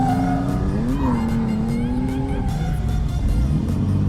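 A drift car with its catalytic converter gone runs a lap, its engine droning loud and close with pitch rising and falling as it revs, tyres squealing and exhaust rasping continuously.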